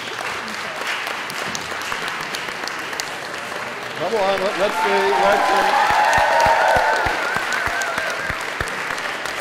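Audience at a gala dinner applauding, a warm swell of clapping that builds midway and fades, with a few words spoken over it.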